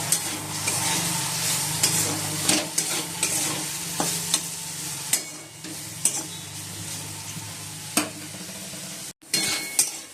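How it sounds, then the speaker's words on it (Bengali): Potatoes frying in a pan at home, a steady close sizzle broken by repeated scraping stirs and light utensil clinks throughout. "এদিকে আলুটা ভেজে দিচ্ছি"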